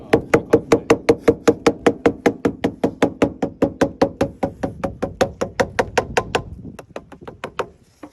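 Rapid rubber-mallet-style tapping seats a rubber door seal on a Suzuki Swift, about thirty close, sharp knocks in a steady quick rhythm that slows and softens near the end.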